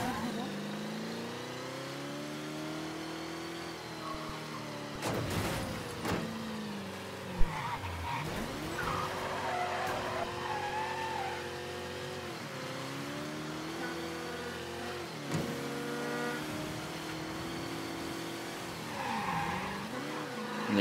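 A car driving in the video game Mafia III, a steady engine drone that rises and falls with acceleration and gear changes, with tire squeal during skids and a sharp bump, while someone talks over it.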